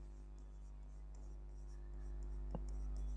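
A teacher writes by hand during an English grammar lesson, soft scratchy strokes faintly audible over a steady electrical hum, with one sharp tap near the end.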